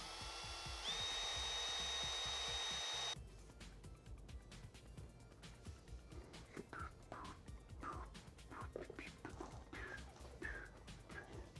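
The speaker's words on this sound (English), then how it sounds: "get a wire brush, clean around on the inside, get all this corrosion out" Stiff wire brush scrubbing corrosion from the inside of a part on a Mitsubishi 4G69 engine during a timing belt job, heard as a quick series of close, rough scraping strokes after a brief opening tone.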